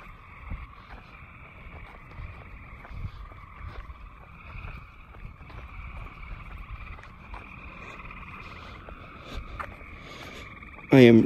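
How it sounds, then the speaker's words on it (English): Frogs croaking at night near a river, a steady chorus of repeated calls at moderate distance with low rumbling background, ending with a sudden louder burst. "Listen to those frogs again"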